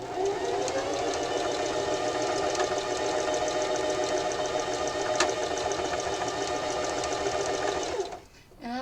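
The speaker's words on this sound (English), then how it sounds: "I'm going to stitch just inside that folded part, on that folded edge." A sewing machine runs a continuous straight stitch along the folded fabric edge of a drawstring backpack, a fast, even mechanical whir close by that stops abruptly near the end.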